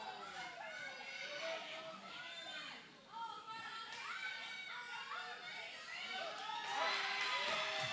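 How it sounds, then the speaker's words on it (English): Crowd noise at a wrestling event, a busy hubbub of children's and adults' voices chattering and shouting at moderate distance, swelling slightly toward the end with brief cheers. "Crowd."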